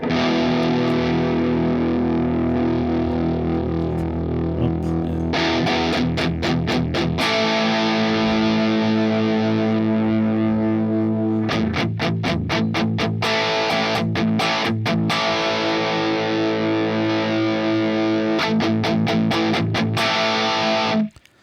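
A distorted electric guitar chord through a Line 6 Helix with a boost rings out and sustains, struck again several times with fuzzy, crunchy bite and slowly fading decay.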